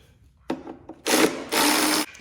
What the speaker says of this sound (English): So getting these bolts off the timing cover here.